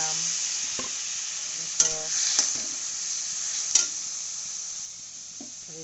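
Fish oil heats in a wok with a steady, close sizzle, broken by a few sharp clicks and scrapes of stirring; one brief spoken word.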